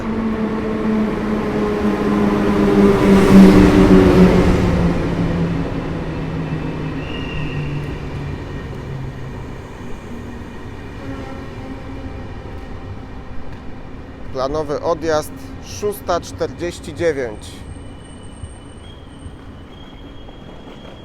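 Intercity Jantar express pulling into Warszawa Zachodnia station, a loud low rumble swelling and fading early, then squealing wheel and brake tones near the end, with a station announcement voice over the rail noise.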